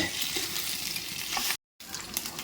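Hilsa fish heads fry in oil with a constant crackling sizzle, then a sudden brief silence before the frying resumes.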